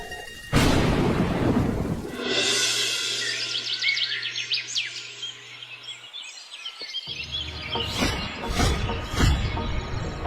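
A loud crack of thunder opens into a long rumbling roll, with rainy storm noise and a brief tonal hum, then more rumbles and crackles.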